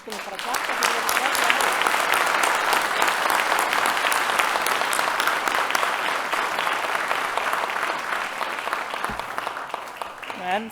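Sustained applause from a crowd at a graduation ceremony in a hall, dense and steady clapping lasting about ten seconds before fading, with a voice briefly heard near the end.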